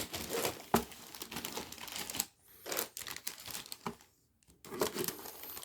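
Clear plastic wrapping on the instruction sheet for a Zoids Realize model kit of the Molga Canory and Hellcat crinkles close by. Sharp crackles come in bursts with two short pauses, and no voices are heard.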